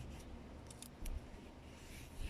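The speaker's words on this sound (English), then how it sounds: "You can cut the end of your masking tape with scissors if you want a really neat edge." Scissors snip through the end of a strip of masking tape, a few quick, close crisp cuts over a steady low background noise.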